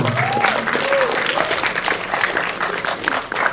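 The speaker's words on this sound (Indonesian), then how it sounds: "kita sambut dan beri tepuk tangan yang paling meriah untuk produser dari Glenn Fredly The Movie, Daniel Mananta." An audience at a film press conference for the Glenn Fredly movie trailer and poster launch breaks into brief, close applause, the clapping dense at first and then thinning out.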